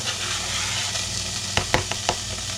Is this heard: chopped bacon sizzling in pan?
yes